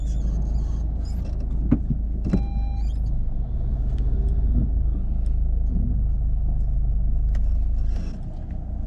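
A car's engine idles and rumbles steadily as the car reverses, a low continuous drone with a few faint clicks and small knocks over it.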